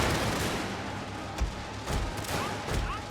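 Musket volleys from troops in a Total War battle game set in Russia, several distinct sharp cracks at irregular intervals over a steady roar of battlefield ambience, with no talking.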